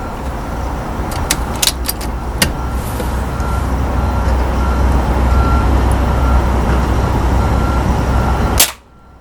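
A Beeman 1357 air gun fires during group shooting. A few faint, sharp clicks come early, and one loud, close crack sounds near the end. A steady rumbling background noise runs underneath and cuts off right after the final shot.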